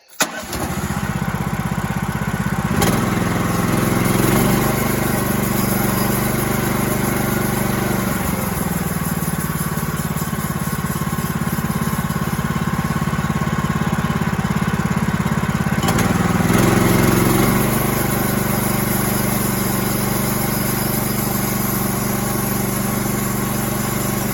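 Sawmill engine running loud and steady while cutting wind brace tenons, its pitch rising briefly twice as the blade bites into the timber, continuous throughout without talk.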